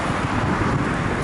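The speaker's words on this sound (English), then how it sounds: "it's a bit windy I know, but what can I do?" Outdoor wind buffets the microphone in a steady, close, rumbling rush that covers the whole short moment, with no voices.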